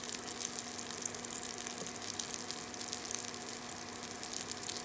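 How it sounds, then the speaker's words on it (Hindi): Soya nugget kebabs shallow frying in oil, a steady, fairly quiet sizzle with a faint crackle running evenly throughout, no voices. "देखिए इसको शैलो ही फ्राई किया जाता है।"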